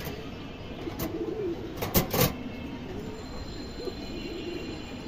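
Female racing pigeons coo in low, repeated murmurs while a few sharp clacks and rattles of cage bars or handling sound out near the middle.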